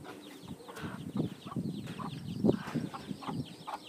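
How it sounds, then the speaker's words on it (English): A mother hen clucks softly near her chicks, low throaty clucks repeating irregularly, with faint high peeps and light rustling around them at close range. "Here we have a mommy chicken and her babies."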